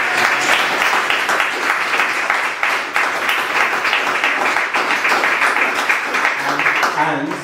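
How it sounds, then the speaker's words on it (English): Audience at a startup pitch event applauding the announced winner, loud, sustained clapping from a large crowd, with some voices and cheers mixed in throughout. "can I have a massive round of applause?"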